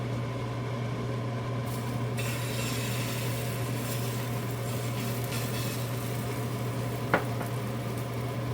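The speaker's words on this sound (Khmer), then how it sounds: "យើងចាប់ដើមមកចៀនពងមាន់របស់យើង" An egg fries in oil in a pan with a soft, continuous sizzle under a low, steady hum, and a single small clink near the end.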